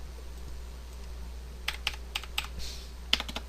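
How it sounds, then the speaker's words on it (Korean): Computer keyboard keys pressed for a save shortcut in image editing software, a short burst of several crisp close taps after a quiet stretch. "컨트롤 시프트 S를 눌러서 PSD로 저장을 한 다음"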